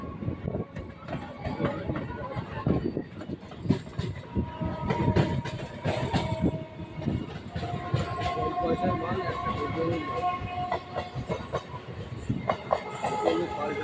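A local train bound for Sealdah, on the Barasat–Bongaon line, rumbles and clatters past close by on the adjacent track, a steady rolling roar of wheels with rattling bursts, and faint voices underneath.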